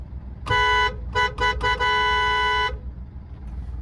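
An upgraded car horn sounds from inside the car, giving one long blast, then a few short toots and a second long honk, bright and loud against the low cabin hum.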